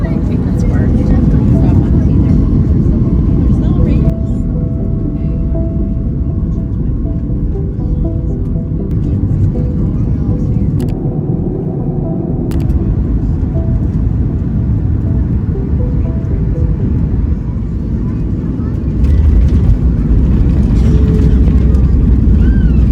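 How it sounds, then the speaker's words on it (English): Steady loud cabin rumble of a Boeing 737 MAX in flight, a continuous low drone with faint intermittent clicks and no talk. "Then it was time for the Boeing 737 MAX back to Sacramento."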